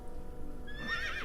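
A horse in World of Warcraft, in Stonetalon Mountains, whinnies loudly in a rising, shrill neigh near the end of the clip, preceded by a low steady rumble.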